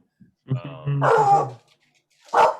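A pet dog barks nearby, giving a pair of quick barks followed by a drawn-out, whiny bark and then one more short bark after a pause.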